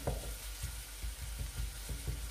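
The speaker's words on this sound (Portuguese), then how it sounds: "A nossa cebola já está aqui a alourar" Onion gently frying in a pan, a close, steady sizzling hiss with soft crackles and light stirring pops, heard alone without talk.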